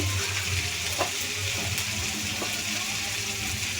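Spice paste of red chili paste, coriander powder and cumin being sautéed in a pan over medium heat for a cauliflower dish, a steady close sizzle with occasional clicks of stirring, no talking.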